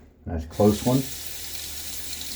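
Tap water runs steadily into a sink for rinsing during a wet shave with a Wolfman WR2 safety razor, a broad even hiss continuing after a brief spoken phrase at the start.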